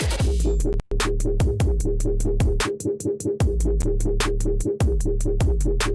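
A heavy electronic drop from a collaboration, a loud, dense, driving mix of pounding low-end hits and bright repeating bursts, with a short cut to near silence early on before the beat slams back in.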